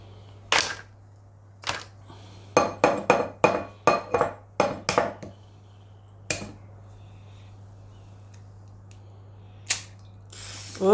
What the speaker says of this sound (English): Now I need you to crack the eggs into that bowl there.